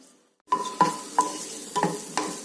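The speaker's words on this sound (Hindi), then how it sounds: "1 garlic जो हमने फाइनली चॉप कर लिए है, 1 saute karna hai" Finely chopped garlic sautéing in a pan, heard as a close sizzle broken by five or six sharp spatula stirs and scrapes against the metal after a brief silent start.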